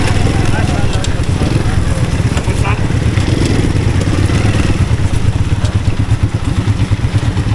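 A Honda CD 70 motorcycle engine runs loud and close with a steady buzzing thrum and clattering splashes while crossing through water on a mountain pass tour, with a voice talking over it.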